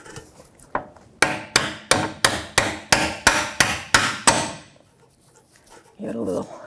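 A hammer taps a steering rack bolt on a 2009-2014 Nissan Maxima, nine quick ringing metallic strikes in an even rhythm, close and loud, then a brief rustle.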